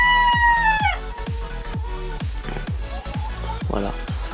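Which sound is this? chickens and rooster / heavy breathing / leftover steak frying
chickens and rooster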